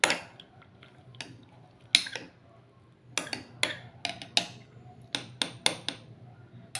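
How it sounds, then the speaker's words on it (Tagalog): A spoon stirring guava leaf herbal water in a pot, sharp metallic clinks and scrapes against the pot's side, sparse at first and then coming in quicker irregular bursts, close and fairly quiet. "Haluin natin."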